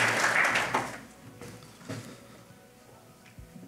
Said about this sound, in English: let's just give a big round of applause for this evening.